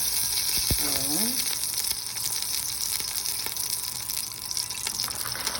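Frying in oil until browned, a steady close sizzle and hiss continues throughout, with a brief tonal squeak near the start and a few light clicks, no voices.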